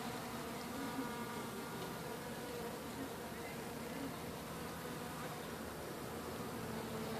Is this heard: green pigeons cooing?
no